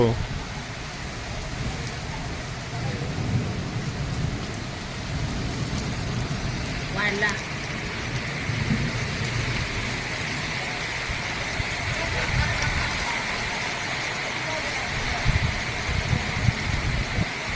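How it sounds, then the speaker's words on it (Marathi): Steady monsoon rain falls outdoors among green trees, a continuous soft hiss that builds slightly over time, with occasional low rumbles of passing vehicles and people talking nearby. "बघू शकता पाऊस अजून वाढलेला आहे"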